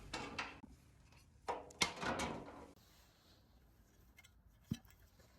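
Old tin snips crunch through a scrap piece of car fender sheet metal in a garage, giving a few sharp metallic cutting bursts separated by pauses, fairly quiet and close.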